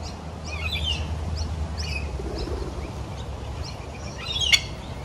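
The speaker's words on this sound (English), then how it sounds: "Told you they get angry, these birds." Several birds give repeated harsh, agitated calls across a golf course, a steady series of chirps over outdoor ambience, with one sharper, louder call near the end.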